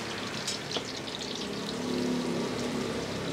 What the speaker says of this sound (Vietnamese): Cái này mình chiên giòn lên là được rồi chị ha.